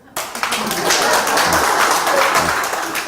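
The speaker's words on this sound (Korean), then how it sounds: "박수 한번 치세요." A classroom of students at a real estate exam-prep academy bursts into applause, a sudden onset of dense, loud clapping that continues steadily, with voices faintly underneath.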